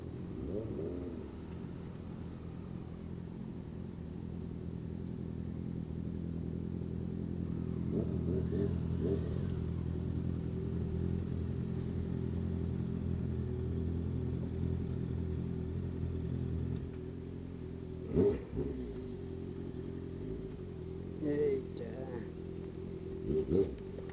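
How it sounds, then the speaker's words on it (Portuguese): Motorcycle engine droning low and steady while riding on a road trip, fairly quiet and continuous, with people talking over it and a few clattering knocks toward the end. "essa moto geme, viu? Geme."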